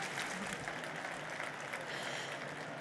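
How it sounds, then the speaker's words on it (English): Audience applause for a speaker at the close of a conference session on the private sector and geopolitics, a steady, fairly faint wash of clapping sustained throughout. "Please give her a really warm round of applause"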